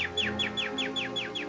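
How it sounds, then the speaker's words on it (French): Birds sing in a scene from the 1946 French film Sylvie et le fantôme, a clear run of about seven repeated descending chirps at a steady rhythm over a low hum, with no talking. "Ce n'est pas une heure pour faire chanter des oiseaux."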